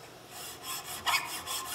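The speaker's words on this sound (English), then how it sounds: "we're going to get a file and start going after this" A coarse file scrapes across brass kit parts in a few short strokes, a faint rasping rhythm close by with no voices.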